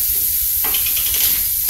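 Onions sizzling in a pan as peppers and garlic are added, a steady close frying hiss throughout with a brief burst of louder crackle midway.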